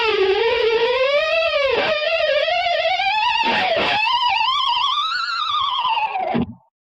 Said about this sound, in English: a succession of 3 harmonics and using the tremolo bar in a way to bend down and up and wiggle at the same time